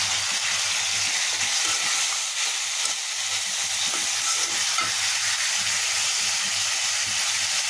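Masala spice paste sizzles steadily in a pan with a splash of water, a continuous close hiss of frying with soft scraping from stirring running throughout, no voices.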